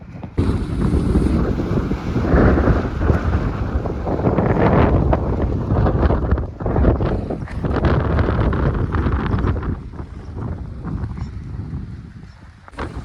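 Strong, gusty wind of an approaching village storm roars and buffets the microphone throughout, loud and continuous with surging swells and brief lulls, no talk.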